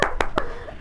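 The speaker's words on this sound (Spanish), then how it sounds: "Aplausos." Three sharp, separate hand claps spaced evenly about a fifth of a second apart, close and fairly loud, at the end of a psychotherapy dialogue session, followed by quiet room tone.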